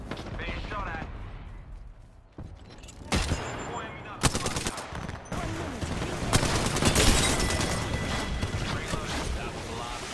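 Heavy gunfire in Apex Legends, with dense bursts and sharp shots packed close together and loud up front, continuing almost without pause under a player's voice.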